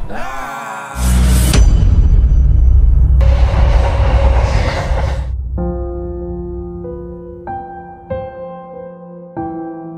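Loud rushing train passing close by with a heavy rumble, followed by ringing, tonal metallic sounds as it recedes.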